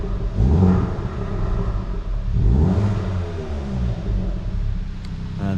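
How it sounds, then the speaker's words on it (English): A Hyundai i20N hot hatch engine revs twice in short, loud bursts, each rise in pitch falling back to a steady rumbling idle between blips, heard close up with no talking. "So let's give it a little rev."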